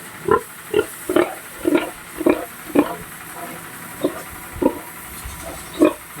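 Pigs on a farm grunt in short, regular bursts, several close grunts spaced about half a second apart over faint background noise.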